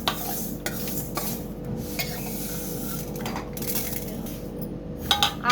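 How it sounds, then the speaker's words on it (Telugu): Fenugreek seeds dry-roasting in a pan for mango pickle, with repeated dry stirring scrapes and light rattling of seeds against the metal, a faint sizzle steady underneath and a few sharper clinks near the end. "మెంతులు మనం టీ గ్లాస్ నిండా వేసుకోవాలి. మామూలుగా వేయించుకోవాలి, మళ్ళీ నల్లగా కూడా అవ్వకూడదు"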